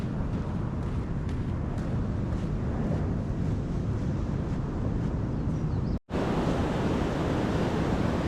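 Steady, loud surf and wind wash over the beach at Southwold in a continuous roar, with a brief cut of silence near the end before it resumes.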